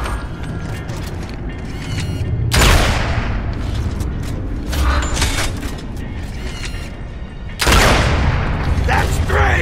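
Sniper rifle shots ring out in the Gears of War 2 video game, two sharp loud cracks standing above an ongoing backdrop of mechanical game noise and clatter.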